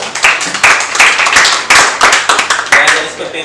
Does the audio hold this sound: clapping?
yes